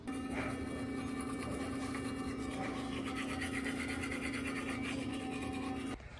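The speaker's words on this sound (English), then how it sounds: "Let me brush my teeth real quick." Pink electric toothbrush brushing teeth, a steady high motor hum with scrubbing and rubbing over it, close and continuous for about six seconds before switching off.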